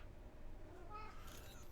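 A cat lets out a faint, short meow near the end, rising briefly over a quiet background hum.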